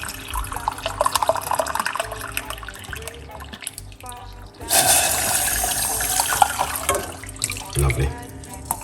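Hot water pours steadily from a kettle with a rushing, splashing sound midway through, after a stretch of clinks and background talk.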